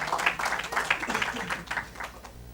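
Audience clapping in a lecture hall, a short burst of applause with irregular claps fading toward the end.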